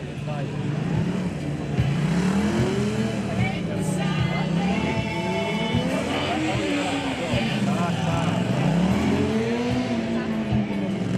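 A racing Yamaha MT-07 motorcycle's engine whines up and down repeatedly as it brakes and accelerates on a track during a Polish championship race in Szczecin, with a voice talking over the steady roar.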